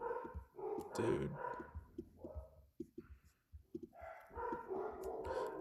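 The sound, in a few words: dogs barking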